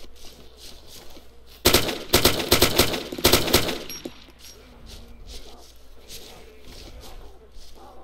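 Rapid gunfire in the survival video game DayZ, two loud, close bursts of quick shots in the middle, followed by quieter background sounds and faint speech.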